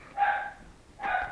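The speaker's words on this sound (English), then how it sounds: "if you hear Odie barking" A dog barks twice, a second or so apart, each a short, moderately loud woof against a quiet background.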